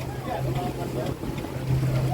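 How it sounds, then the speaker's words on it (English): Steady wind rushing over whitecapped Big Bear Lake with a low boat motor drone underneath; the gusting roar stays constant throughout, with faint voices mixed in. "That's pretty windy."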